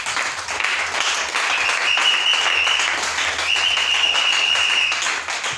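Church congregation applauding during a service, dense sustained clapping from many hands filling the room at a steady level for several seconds, with a faint tonal whistle or feedback-like ring above it and no talking.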